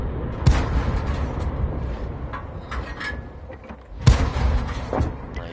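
Two heavy tank gun shots in World of Tanks, fired from a Wolverine tank destroyer. Each is a sharp, loud boom with a rumbling tail, spaced a few seconds apart over steady engine and battle noise.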